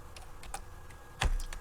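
Keys on a computer keyboard are tapped in a few quick, scattered clicks, close and fairly soft, with one louder keystroke near the end and no speech.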